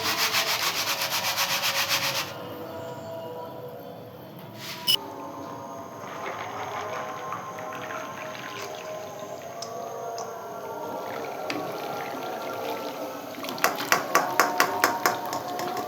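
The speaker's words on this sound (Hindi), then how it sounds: "अब हमने इसी तरह से सारी दाल को फ्राई कर लेना है" Steady crackling and sizzling of chana dal (split chickpea lentils) frying in hot oil, with a few sharp taps and clicks scattered through; no talking.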